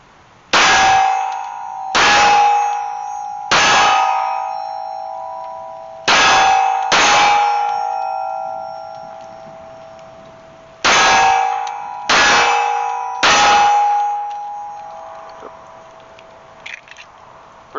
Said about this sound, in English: got a magazine loaded. Sig Sauer 1911 Max. Got it round chambered. Here we go.